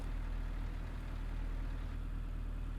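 Truck engine in a convoy driving video game, a steady low idling drone with a fine rhythmic pulse, loud and continuous throughout with no talking.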